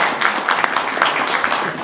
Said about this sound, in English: Last round of applause for Naveen